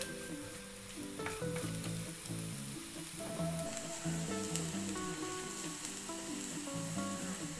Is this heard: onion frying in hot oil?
yes